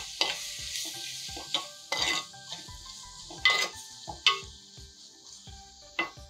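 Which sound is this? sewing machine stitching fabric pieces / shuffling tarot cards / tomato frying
tomato frying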